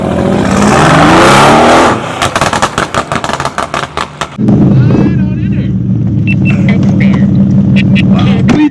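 A Mercedes-AMG car accelerating hard with loud engine roar and sharp bursts, then settling into a steady low drone while people talk over it.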